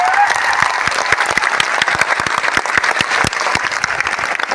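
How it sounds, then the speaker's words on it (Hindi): Loud, dense applause from a large audience clapping for their teachers at a coaching-class gathering in Patna, sustained and steady throughout with sharp individual claps standing out. "आपको सभी अध्यापकों के लिए जोरदार ताली बजानी चाहिए"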